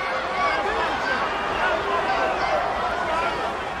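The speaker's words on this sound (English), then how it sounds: "Would you listen to this crowd show their appreciation for these amazing competitors?" Steady crowd roar fills the arena in WWE 13 during a Big Show versus Mark Henry I Quit match, a continuous cheering hubbub running underneath an announcer's commentary.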